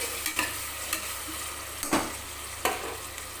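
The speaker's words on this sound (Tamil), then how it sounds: "தக்காளி கொஞ்சம் நல்லா வதங்கட்டும்" Tomatoes sautéing in a pan for chicken samba rava biryani: a constant soft sizzle broken by four brief scraping stirs, close up, with no talking.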